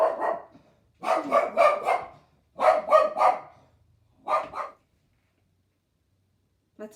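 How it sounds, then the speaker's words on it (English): A dog barks in several quick bursts of two or three barks separated by short pauses, close and fairly loud, with no speech over it. "That's a crazy dog."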